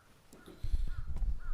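A couple of harsh crow caws from the anime Haikyu!! ring out over low rumbling background noise, fairly close and moderately loud.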